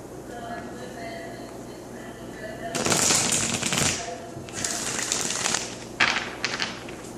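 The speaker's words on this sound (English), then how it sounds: "Okay, I'm going to shuffle one more time." Tarot cards are riffle-shuffled in bursts of rapid crisp flutters, close and fairly loud, with a quieter room tone in between and a final quick snap of cards.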